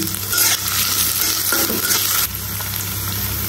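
Jackfruit seeds, dried fish and vegetable stems from a rooftop garden are stirred in a hot pan, giving steady scraping and a constant sizzle that stays loud and close.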